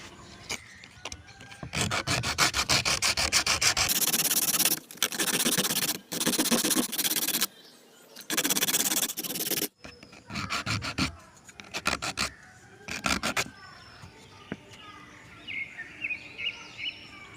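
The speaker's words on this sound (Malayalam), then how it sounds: "ഇതിൻ്റെ എഡ്ജൊക്കെ നമുക്കിനി ഒന്ന് ഷേപ്പ് ചെയ്തെടുക്കാം." The edges of a cut coconut shell are shaped with a tool, giving bursts of loud, harsh grinding and rasping with short pauses between, fading to quieter scraping at the end.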